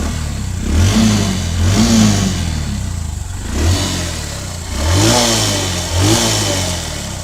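A Honda CD 110 Dream motorcycle, ridden 25,000 to 30,000 kilometres, runs close by, its engine rising and falling in a series of repeated revs over a steady idle, with no talking.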